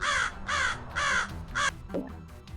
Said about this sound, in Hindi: वहाँ पास में बैठा कौवा उस सन्नाटे में बहुत तेज